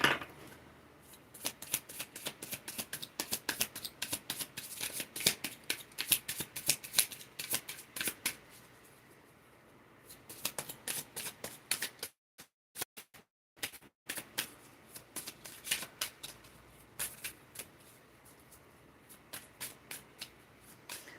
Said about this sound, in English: Let's shuffle them a few more times.